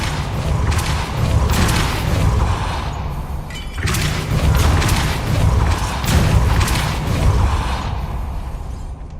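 The Depulso spell in Hogwarts Legacy lets out a loud, rumbling burst with heavy thuds and a mechanical grinding churn, one sharp hit partway through, and the roar stays dense to the end.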